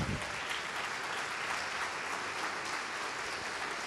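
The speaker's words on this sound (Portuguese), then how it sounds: "Vamos aplaudir ao nome do Senhor." A standing church congregation applauds steadily, a dense, even wash of many hands clapping at once, fairly distant and sustained throughout without pause.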